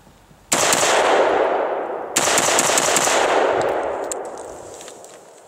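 A Bravo Company Manufacturing lightweight AR rifle fires at an outdoor range, with two loud close shots a second or so apart, each followed by a long ringing echo that fades slowly.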